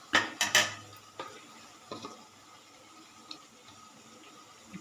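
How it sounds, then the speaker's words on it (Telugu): A metal lid clanks down onto a cooking pot of okra curry, a few sharp clatters close by, then lighter scattered knocks fading into quiet kitchen background. "మూత పెట్టేస్తున్నాను"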